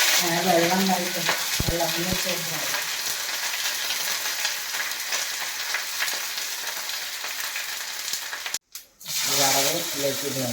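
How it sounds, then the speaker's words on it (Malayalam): Mustard seeds and dried red chillies are tempered in hot coconut oil for a pineapple pachadi, giving a loud, steady sizzle and crackle close by, with a voice talking at the start and end. "വെളിച്ചെണ്ണയിൽ തന്നെ വറവിടുക."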